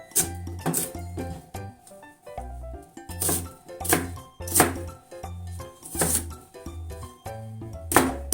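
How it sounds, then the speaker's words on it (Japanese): A knife coarsely minces an onion on a cutting board, producing steady rhythmic chopping thuds with sharp clicks, close and clear, with no talking over them. "ちょっと大きめのみじん切りにしたいと思います"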